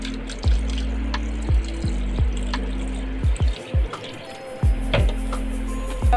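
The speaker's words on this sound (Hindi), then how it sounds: "अब ये 1 कप मिल्क जो मैंने पकाया था वो मैं ऐड करूँगी इसमें।" Cooked milk poured over bread slices and chopped mango in a dish, heard as a series of close, wet glugging drips and splashes coming in irregular bursts.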